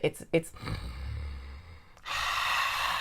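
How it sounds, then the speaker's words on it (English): Pranayama-style breathing exercise: two sharp nasal sniffs, a long low exhale, then a steady rushing breath sustained to the end, close and fairly loud with no speech. "the breathing exercise that I do for Ethos 1, which is, it's a demo"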